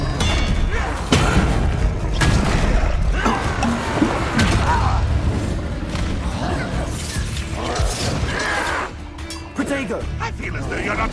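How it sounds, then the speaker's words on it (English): Expelliarmus spell impacts in Hogwarts Legacy duel combat land as sharp thuds and crashes amid a busy mix of whooshes, clanks and other spell effects, with character voices speaking throughout. "Expelliarmus!"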